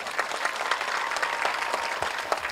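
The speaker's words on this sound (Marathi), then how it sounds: "जोरदार टाळी वाजवा" Sustained audience applause at a Marathi afternoon religious discourse, a dense, steady wash of many hands clapping that fills the whole clip without a break.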